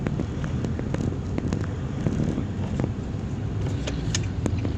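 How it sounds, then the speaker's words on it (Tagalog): Heavy road traffic at a busy crossing on a Monday, with a steady broadband rumble of many cars and engines passing, wind buffeting the microphone, and no clear speech. "Mas parang maraming sasakyan ngayong araw na to,"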